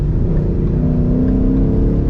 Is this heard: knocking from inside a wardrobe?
no